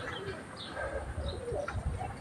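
Bozkırlı pigeons coo in soft, low, repeated phrases outdoors, with a few faint chirps and wing sounds mixed in against a muffled background.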